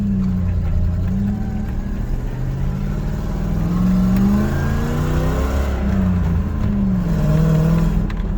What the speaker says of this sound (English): I know you guys wanted to hear some more noise of this thing actually running and driving